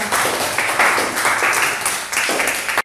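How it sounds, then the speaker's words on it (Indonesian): A classroom of students claps for the second group after its presentation, a dense steady patter of many hands lasting a few seconds before stopping abruptly. "Oke, beri tepuk tangan untuk kelompok 2."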